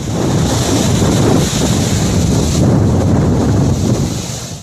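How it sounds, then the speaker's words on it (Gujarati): High sea waves pound the coast at Jafrabad in strong monsoon wind, a loud, unbroken roar of surf and wind buffeting with no voices. "જાફરાબાદના દરિયાકાંઠે પવન સાથે ઊંચા મોજા ઉછળ્યા હતા"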